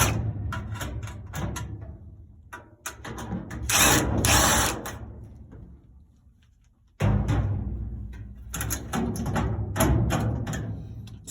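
A small screwdriver undoes screws on a phone motherboard during a Bookworm 2021 repair, giving close, loud bursts of ratcheting, clicking turns that pause briefly and then resume.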